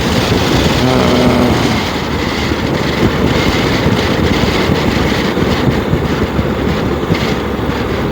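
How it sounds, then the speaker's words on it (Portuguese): Strong wind roars and buffets around a rider on a Suzuki V-Strom 800DE, a loud, broadband rush that stays steady for the whole stretch with a faint engine hum underneath and no talk. "Estou a ser já bastante fastigado aqui pelo vento."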